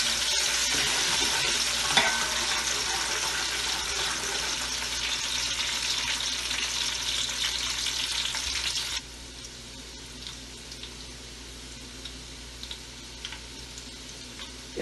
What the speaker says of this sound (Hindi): तेल हमारा हो गया है तो अब हम प्याज डालेंगे।